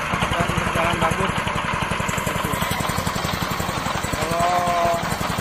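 A pellet press machine runs with a rapid, regular mechanical chugging and vibrating engine throb close by, while someone talks over it.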